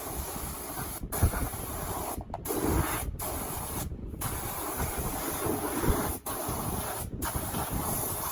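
Compressed air from a spray gun blasts thinner onto the paper air filter of a Royal Enfield GT650 motorcycle, a loud, close, continuous hiss broken by several brief pauses as the trigger is released.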